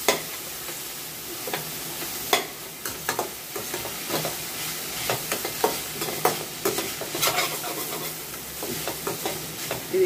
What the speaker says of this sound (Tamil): இது இப்போ நல்லா வதங்கட்டும் பார்ப்போம்